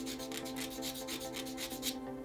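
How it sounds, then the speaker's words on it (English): Steady back-and-forth rasping of 120-grit sandpaper on a small sanding block rounding the nose of a wooden glider, short rhythmic strokes close up, stopping near the end. "I'm using 120 grit on a little sanding block"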